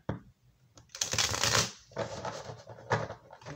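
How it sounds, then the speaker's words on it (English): Tarot cards riffle-shuffled up close, with a couple of rapid fluttering bursts and softer handling sounds between them. "Two more here. Two more shuffles."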